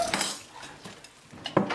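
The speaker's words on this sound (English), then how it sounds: "And then we'll give it a stir." A spoon stirs a thick rocky road mixture in a bowl for Halloween baking, giving a few scraping clinks against the bowl at close range, with the loudest strokes near the start and end.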